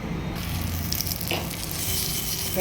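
Tomato dosa batter sizzles on an oiled pan, a continuous hissing frying noise that holds steady with a slight swell at the end.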